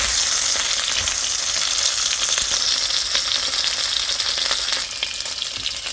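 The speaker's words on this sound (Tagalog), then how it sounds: "Stir fry tayo ng papaya at may pichay." Chicken and papaya stir-fry in a hot pan with a loud, constant crackling sizzle, close up and steady for several seconds with occasional scraping stirs, no voices.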